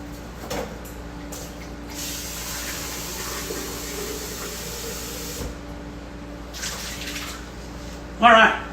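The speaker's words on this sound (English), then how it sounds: "I'll let it drain in the sink first" Water drains from a kitchen sink with a steady hiss and rush that runs most of the time, then cuts off briefly before a short, louder burst of splashing at the end.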